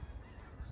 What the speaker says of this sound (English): So, probably Canada geese to be honest.